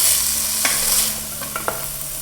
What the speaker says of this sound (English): Put the heat up so we can get some caramelization on the onions